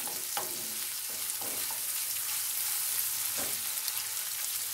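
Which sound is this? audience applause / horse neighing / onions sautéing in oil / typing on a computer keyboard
onions sautéing in oil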